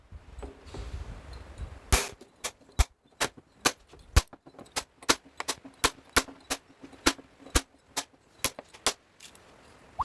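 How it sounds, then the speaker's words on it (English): Pliers snip protruding staples one after another in a quick, irregular series of sharp metallic clicks, about twenty cuts in close succession after a brief rustle. "we're gonna get the pliers, and I'm just going to cut every single staple that sticks out"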